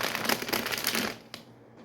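A food wrapper crinkles loudly and close up as it is unwrapped, giving dense crackling rustle for over a second before it fades into quiet with one small final crackle.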